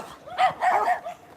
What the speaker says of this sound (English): Here comes a dog, I'm about to get bit.